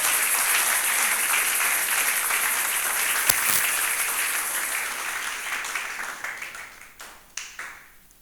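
A church congregation applauding after the Lord's Prayer, a full burst of clapping from many hands that holds steady, then thins into scattered claps and fades out.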